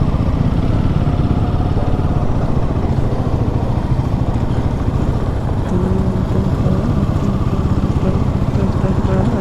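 A Royal Enfield Himalayan 450 motorcycle engine drones steadily as the bike climbs a rough road at sunrise, with constant wind buffeting the microphone throughout the ride.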